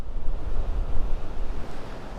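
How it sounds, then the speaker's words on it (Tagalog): Steady broadband rush of a mountain waterfall, continuous and loud with a low rumbling roar and wind-like hiss, no voices. "Grabe yung falls, oh."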